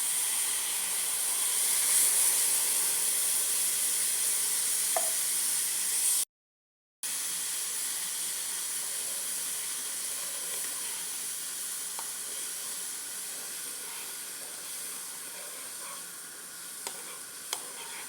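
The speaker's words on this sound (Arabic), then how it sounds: "خليهم يطيبوا مع هذا الماء مزيان حتى يطلقوا لنا اللون." Herbs simmer in water in a pot for a natural hair dye, giving a steady soft hiss of steam and bubbling with a few faint clicks and a brief break in the sound.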